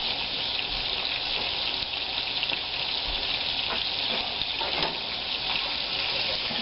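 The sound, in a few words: frying bacon fat pieces while rendering fat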